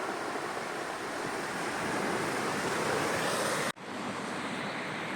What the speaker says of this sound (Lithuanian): Gražus vandenynas.